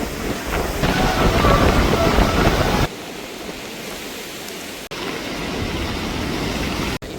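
Rough sea waves pound the KKS coast in Jaffna after a cyclone, a loud, continuous roar of surf and wind that drops to a lower wash partway through.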